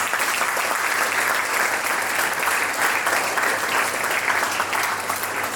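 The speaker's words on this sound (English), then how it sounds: "Give him a big round of applause." Steady, dense applause from a seminar audience, continuous and fairly loud throughout with no talk over it.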